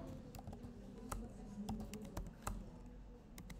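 Rapid clicking keystrokes on a computer keyboard as a question is typed, with irregular bursts of taps close to the microphone under a low background hum.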